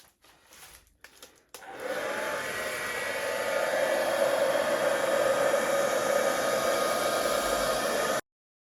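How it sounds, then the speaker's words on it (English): A hairdryer roars steadily as it blows a wet acrylic paint base coat across a canvas for a pour painting, starting after a few faint clicks and running loud and close until it cuts off. "use a hairdryer just to blow that out to get a nice even"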